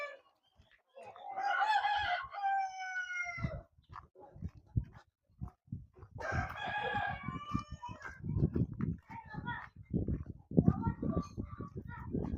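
Leghorn chickens in a coop crow in long, drawn-out calls and cluck steadily close by, with a person talking at times over the flock.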